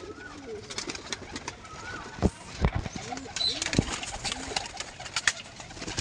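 Pigeons cooing at close range in a loft, soft repeated low coos overlapping with some rustling and occasional wing sounds, with someone talking intermittently.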